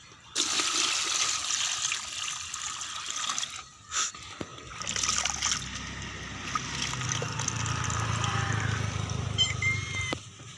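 Wheat grains are washed by hand in water, giving continuous sloshing and swirling with brief pauses and splashes, close up and steady throughout, with no speech.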